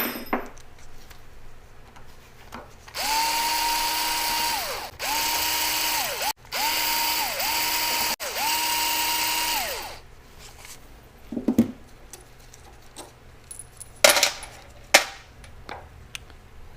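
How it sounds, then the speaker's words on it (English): A small power drill whirs in several short bursts while disassembling 7.3 Powerstroke diesel fuel injectors, its motor pitch rising and falling, followed by clicks and clanks of metal parts being handled. "I also use a little drill because disassembling these things gets pretty tedious after a while"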